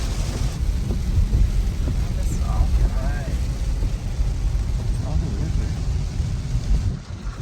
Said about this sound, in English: I think we're driving back into the rain here now.